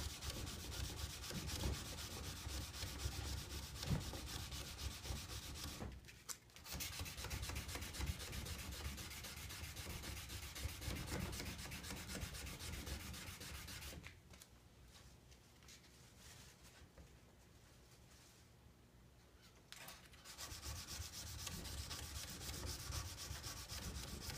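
A McCullen knife blade being hand sanded wet with glass cleaner, a continuous close scratchy rubbing in long back-and-forth strokes, briefly pausing once and dropping quieter for several seconds before resuming, no talking.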